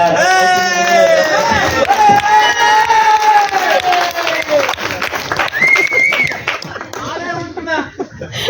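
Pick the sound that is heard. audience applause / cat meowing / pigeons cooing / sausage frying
audience applause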